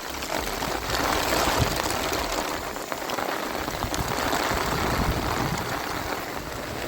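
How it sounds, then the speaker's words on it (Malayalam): Heavy rain pours down on a rocky hill trail, a dense, loud, continuous hiss of drops striking rock and running water that fills the whole stretch without pause. "പെരും മഴ എന്ന് പറഞ്ഞാൽ പെരും മഴ."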